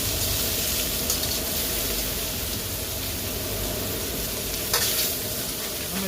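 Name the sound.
stirring and separating garlic noodles with red rock crab in a sizzling pan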